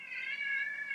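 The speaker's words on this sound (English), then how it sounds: "My wife thinks that that's our cat crying." A faint, short cat cry, a single sustained tonal meow under a second long, sounding distant and thin in a quiet room.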